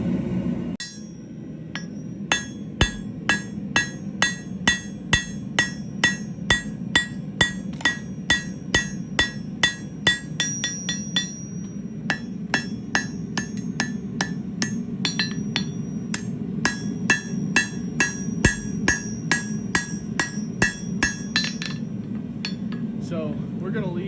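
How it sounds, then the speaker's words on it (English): Hammer blows forging steel for a Bowie knife, a long steady series of sharp ringing strikes on the anvil, evenly paced and close, with a low workshop hum beneath. "forge out our ricasso area pretty rough, and then bring that tang down to a point"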